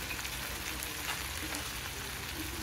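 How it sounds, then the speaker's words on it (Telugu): Tomatoes frying in a pan on a stove, a steady close sizzle and crackle that runs unbroken throughout with no voices. "వీటిని స్టవ్ పైన పెట్టుకొని బాగా వేయించుకుందాం."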